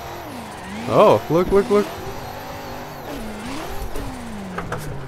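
A BMW E92 engine revs hard while drifting, sweeping up and down in pitch with a couple of sharp loud bursts early on, then settling into a steadier drone as a voice talks briefly over it.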